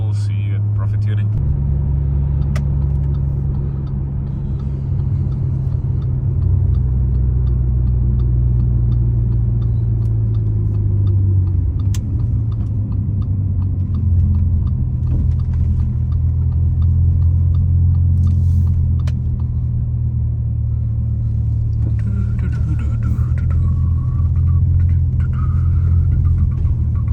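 An Audi RS6 with a new fuel pump cruising on a motorway, giving a loud, continuous low engine and road rumble with slight shifts in pitch as it drives along.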